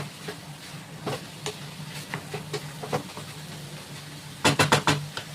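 Elephant foot yam stems frying in a pan for a Bengali home dish, with a soft steady sizzle, occasional stirring scrapes and a cluster of sharp clacks near the end.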